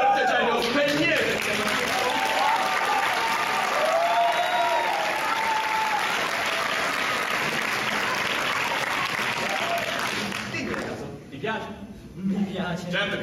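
A theatre audience at an Aladdin stage show breaks into loud, sustained applause and cheering that fills the hall, then thins out near the end as voices and scattered claps take over.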